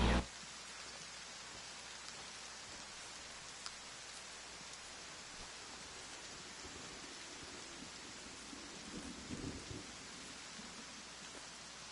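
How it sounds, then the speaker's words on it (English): Steady rain hisses throughout, with a low rumble of thunder swelling near the end, in the video game The Way of the Hunter, Transylvania map; no voices. "You hear a little bit of thunder crackling."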